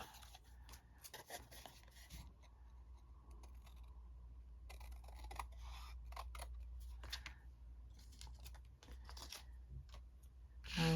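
Scissors cut down a piece of craft material in a series of soft, close snips and rustles with irregular gaps, faint over a low background hum.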